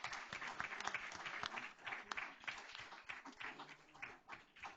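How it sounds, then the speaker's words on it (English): An audience at a school board meeting applauds students who stand to be recognized, with sustained clapping from many hands that fills the room at a moderate distance and holds steady throughout. "Let's give them a big round of applause."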